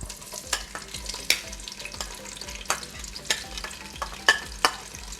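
Onions frying in ghee inside a pressure cooker, a low steady sizzle under a series of sharp spoon clicks and scrapes against the metal pot at irregular intervals.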